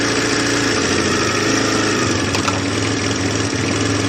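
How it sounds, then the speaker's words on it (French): An Elystar 125 motorcycle engine idles steadily and evenly, a close, continuous low rumble with a faint knock partway through. "Vous voyez, il tient le ralenti et tout, il tourne impeccable."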